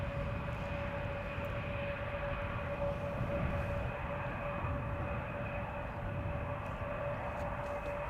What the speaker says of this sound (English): a very high probability that the A380 is going to land on this runway